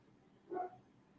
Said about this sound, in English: I hear my dog barking out there.